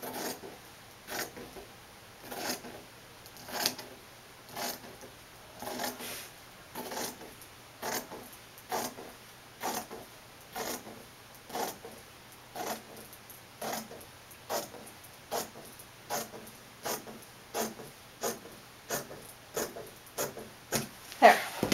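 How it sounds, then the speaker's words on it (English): Sewing shears cut along the pressed bias fold of a square of fabric, giving soft, regular snips about one per second that continue steadily for over twenty seconds. "now I'm going to cut along that line with my shears"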